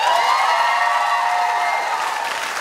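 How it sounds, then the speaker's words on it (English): A studio audience at a live Big Brother Australia 2012 show cheers and claps, a dense wash of applause and whoops that fades slightly over a couple of seconds. "You can applaud."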